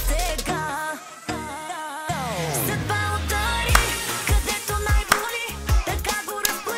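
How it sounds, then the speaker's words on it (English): Bulgarian pop folk (chalga) music plays with a thumping dance beat, sliding ornamented melody lines and sweeping pitch glides, steady and moderately loud. "The first being Bulgarian pop folk music, also called chauga,"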